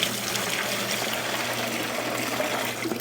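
Water is poured from a bucket through a fish net into a small saltwater reef tank, a steady close trickling and splashing wash that runs evenly without pause and without talk.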